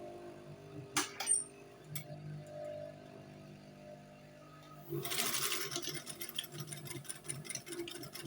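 A sewing machine stitches the waistband of half-elastic-waist senator trousers, a run of fast mechanical whirring starting midway and continuing to the end after a quieter stretch with faint clicks.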